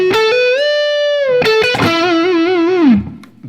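Distorted electric guitar opening a solo, a sustained bent note, a quick slide up and a wavering vibrato note that fades out, loud and alone.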